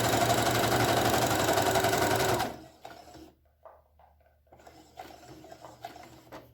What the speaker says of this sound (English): let's go to the sewing machine and sew them up together